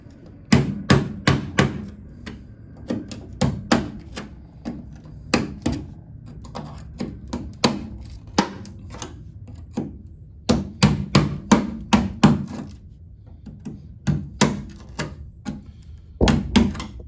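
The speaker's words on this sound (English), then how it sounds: "Could use a bigger hammer." Repeated sharp hammer blows ring on the metal body of a 1964 VW Beetle convertible in irregular clusters, loud and close, with brief pauses between flurries of strikes.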